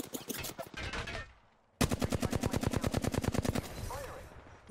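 Automatic gunfire in the video game Apex Legends, two rapid bursts of loud, close shots separated by a short gap, the second burst long and evenly spaced.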